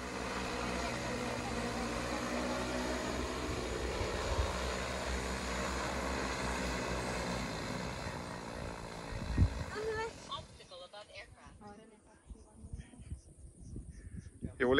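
A fixed-wing airplane coming in to land drones steadily at close range before the engine noise drops away, and people talk over the sound.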